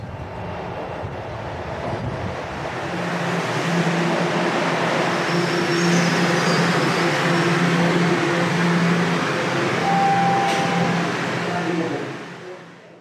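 A Toronto subway train rumbles steadily along the tracks, with a low droning hum, faint whines and a rising then fading roar of motion.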